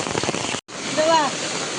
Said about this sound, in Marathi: आणि इथे वरती धबधबा आहे.